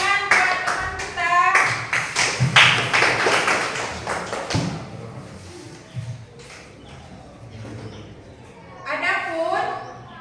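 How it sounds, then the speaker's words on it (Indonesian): A classroom of students claps for a classmate during a biology lesson, a burst of sharp claps mixed with voices that fades into quieter talking and shuffling. "tepuk tangan buat teman kita"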